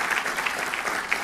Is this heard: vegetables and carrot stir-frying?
no